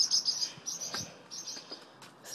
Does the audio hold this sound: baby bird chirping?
yes